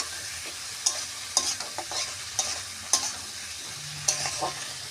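Fish curry with black cumin paste being stirred and sautéed in a pan, a low steady sizzle punctuated by about eight sharp spatula scrapes and taps at uneven intervals, close up with no voices.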